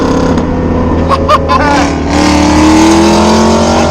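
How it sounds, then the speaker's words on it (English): A twin-turbo Honda Civic engine held at boost cut, a loud sustained harmonic drone with a steady buzzing pitch that climbs slightly, running continuously up close with no pauses. "Oh, yeah, boost cut."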